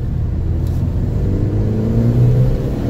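A Ford Fiesta ST engine drones low and steady at moderate speed, with a faint turbo whirring whistle rising and falling over the rumble.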